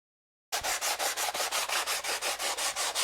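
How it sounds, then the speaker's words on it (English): Finish sanding on balsa wing sheeting of a Midwest 27% Giles 202 model airplane wing, after a brief silence, a steady run of quick back-and-forth scratchy strokes, close and even in rhythm. "we're just going to do some finishing sanding"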